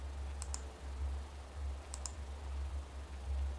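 Two pairs of quick mouse clicks on a computer running AutoCAD, each double click crisp and close, separated by a pause over a steady low hum.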